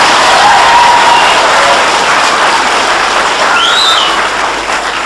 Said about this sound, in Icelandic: sjaldgæft að heyra svona vel klappa fyrir Akurnesingum meira segja